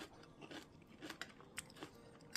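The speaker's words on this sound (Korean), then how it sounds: "이번엔 파프리카도 먹어볼게요. 음, 음, 아삭아삭" Fresh, crunchy yellow and red paprika is chewed close to the microphone, with faint, irregular crisp bites and crunches over a soft, quiet background.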